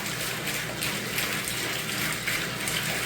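Water runs steadily from a 25-watt aquaponics sump pump that has just been repaired and plugged back in, a continuous close splashing gush with no talking over it.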